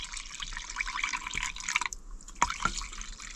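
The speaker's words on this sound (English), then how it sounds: "Some water." Water pours and splashes into an RV fresh water tank during cleaning, a steady bright rushing stream with a brief pause and a few thuds, close and moderately loud, no voices.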